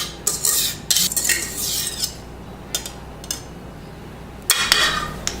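Cheesecake batter is scraped from a bowl into a pan, with sharp utensil scrapes and clinks in short bursts separated by quieter pauses, close and fairly loud.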